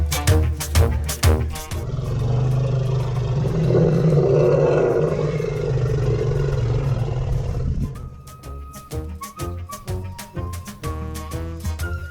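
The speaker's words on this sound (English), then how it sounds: "We heard deep, echoing grunts, that unmistakable sound of elephants communicating or maybe warning." Elephants feeding in Tarangire, Tanzania give a deep, drawn-out rumbling grunt lasting several seconds, loud and close, with sharper sounds before and after it.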